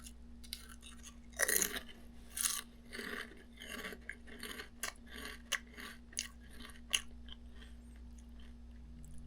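Crunchy Korean seaweed-flavored potato chips being chewed up close, a quiet string of crisp bites and crunches with irregular rhythm, louder crackles at the start easing into softer chewing.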